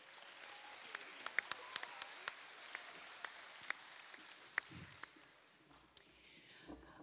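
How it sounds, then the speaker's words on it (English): An audience at a secondary school awards and graduation ceremony claps for students, a quiet, sparse patter of individual claps heard at a distance in a large room. "Please give these students a big round of applause."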